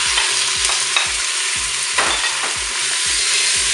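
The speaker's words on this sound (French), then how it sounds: "on va pouvoir commencer quand même à faire revenir la viande." Chicken browns in olive oil inside a Cookeo multicooker during preheating, giving a steady, close sizzle with repeated scraping stir strokes every half second or so and no talk.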